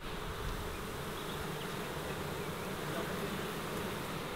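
A swarm of wild honey bees buzzes steadily and continuously, a dense droning hum that stays even and moderately close, with no voices over it.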